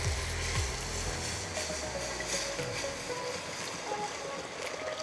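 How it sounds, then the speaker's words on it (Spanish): Water is poured into a pot of catfish sancocho, a steady wash of splashing and pouring noise that continues throughout, with faint background sounds and no clear talk. "Vamos a ponerle agüita."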